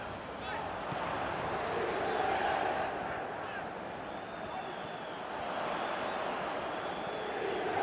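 A stadium crowd roars in PES 21, heard as a broad, steady wash of cheering that swells slightly and then settles, continuous and fairly distant.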